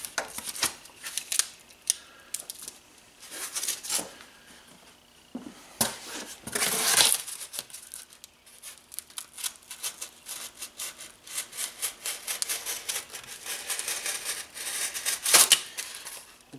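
Hand sawing along a marked line on material for a homemade firepit wood stove, with rough rasping strokes in an uneven rhythm that are close and fairly faint, pausing now and then, with no talking.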